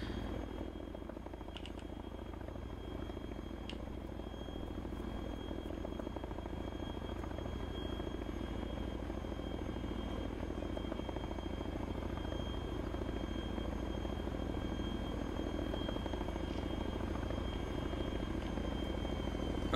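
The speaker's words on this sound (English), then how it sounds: "or else the helicopter won't land." A military helicopter in the PC game ARMA 3 drones steadily for the whole stretch as it flies in and settles to land, a constant, moderately loud rotor and engine rumble with no talking over it.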